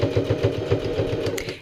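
A sewing machine back stitches along a jean fly zipper, its needle thumping in a fast steady rhythm for a brief close burst with no talk.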